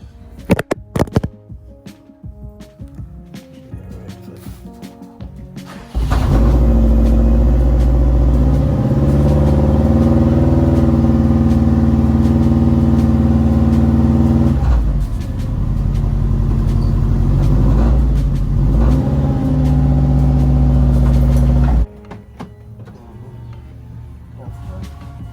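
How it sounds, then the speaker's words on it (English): A station wagon's engine cranks and catches, then idles loudly and steadily up close for about fifteen seconds before shutting off. "I guess it's time to start my car"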